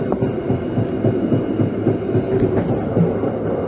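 A train on the new Mojokerto double-track line near Krian, Indonesia, switching onto track 3: a steady, loud rolling rumble with faint rhythmic wheel clatter throughout.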